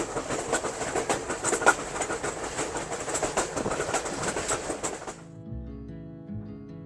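Grand Canyon Railway train rolling along the tracks, caught from the open back deck: a steady rumble with rhythmic clickety-clack beats close by, then cutting off abruptly to quiet near the end.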